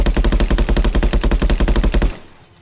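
Automatic rifle fire in a realistic VR metaverse FPS game: a rapid, steady burst of about twenty loud, close shots lasting two seconds, then an abrupt stop into a quiet tail.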